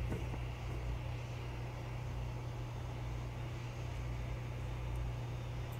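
Steady low engine drone of a Ryanair airliner in a flight simulator before takeoff, a constant heavy rumble with an even hum that holds unchanged and fairly loud throughout.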